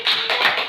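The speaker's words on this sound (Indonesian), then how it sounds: "Tepuk tangan untuk kelompok 2" Classroom applause for a student group: a short, dense burst of many hands clapping together, loud and close, lasting under a second.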